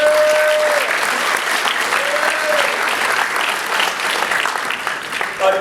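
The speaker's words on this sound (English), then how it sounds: "We can give that a round of applause." An audience claps in sustained, loud applause during a speech by Mandela's grandson in Tunisia; the clapping forms a thick, continuous wash that eases slightly toward the end, with a few faint tonal calls above it.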